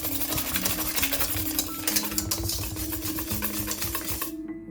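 A spoon stirs cassava cake batter in a wide mixing bowl, rapid scraping and tapping strokes against the bowl in a steady, busy rhythm, close and fairly loud, no talking.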